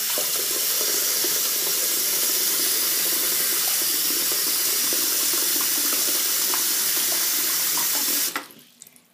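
A tap runs at full flow into a container being filled to warm a baby bottle, a loud steady gushing rush that cuts off abruptly near the end and leaves quiet room tone.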